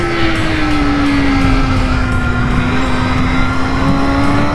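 A 2022 BMW S 1000 RR sportbike at speed on a racetrack, its engine holding a loud, steady high whine with a slight drift in pitch throughout, alone and without talk.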